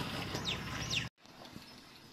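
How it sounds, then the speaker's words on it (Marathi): A common myna calls from a coconut tree on a village morning: two short, faint chirps within the first second over a soft outdoor hum, then near quiet. "नारळाच्या झाडावर साळुंखी हा पक्षी बसलेला आहे आणि छान असा आवाज येत आहे त्याचा"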